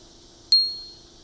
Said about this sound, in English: There's also a little bit of a bell